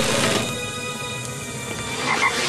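Cartoon frog croaking, a loud close croak with buzzy repeated pulses over a short stretch, alone without speech.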